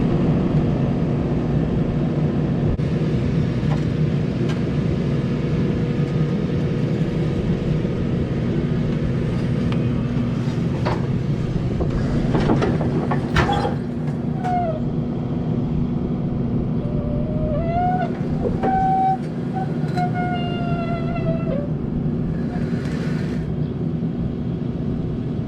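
A compost spreader trailer runs with a steady, loud, low mechanical drone and rumble throughout, with a few faint clanks and a brief whine partway through and no talking.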